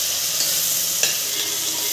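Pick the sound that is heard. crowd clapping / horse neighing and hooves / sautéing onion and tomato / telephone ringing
sautéing onion and tomato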